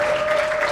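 Brief burst of audience clapping for two roast battle contestants at a comedy show, a steady dense wash of applause with a faint tonal hum running beneath it.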